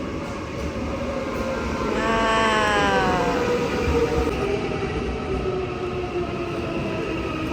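A train passes in Auckland city with a continuous rumble that swells in the middle. A rising set of whining tones, like wheel squeal or a horn, sounds briefly, then the noise fades back to a steady background.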